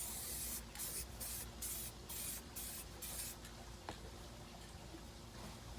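A nearly empty aerosol spray can lays a light coat of paint on a Chevy Blazer console: a few short hissing bursts in a quick rhythm, then a longer steady spray, close and loud, with no talking.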